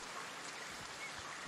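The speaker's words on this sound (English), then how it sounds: "Oh my goodness, the rain is dropping all the time." Steady rain falls in the Foundation video game, a constant dense hiss of drops with a few soft low thumps, brief and fairly quiet.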